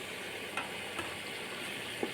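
Chicken sizzles in a pan as it is stir-fried with spices, tomato sauce and raisins for Old Dhaka-style morog polao: a quiet, steady frying hiss with a few soft stirring knocks.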